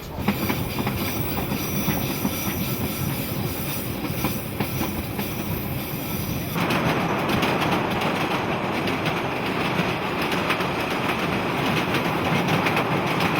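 A mainline steam train runs along a New Zealand railway, its wagons rumbling and clattering steadily at close range, the roar growing noticeably louder and brighter partway through.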